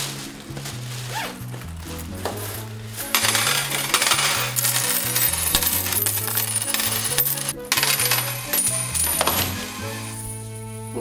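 Coins clatter and jingle as change is handed out, a bright, busy rattling that swells in the middle and fades again, over steady background music.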